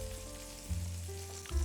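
A thick Japanese burger steak patty sizzles in a pan as it browns and forms a crust, a steady close crackle over a low electrical hum.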